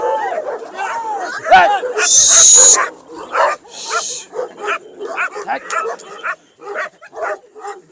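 Shepherd dogs on a mountain bark and yip nearby in short, irregular bursts, mixed with whimpers, while a person hushes them.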